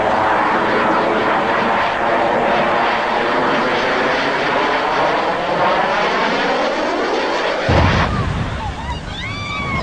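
A fixed-wing airplane roars steadily at an air display, loud and sustained, then a sudden broadband crash-like burst near the end as the plane hits an empty airfield, followed by fading rumble and scattered high tones.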